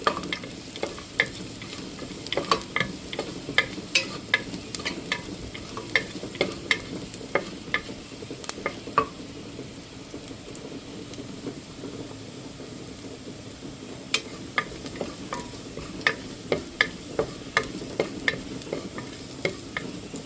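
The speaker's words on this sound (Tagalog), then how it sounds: "Yan, gisa ko na yung bawang." Garlic sizzles and fries in hot oil in a pan for pork rib braising, with a steady crackling hiss and frequent sharp scrapes and taps of a spatula stirring throughout, fairly close and with no talk.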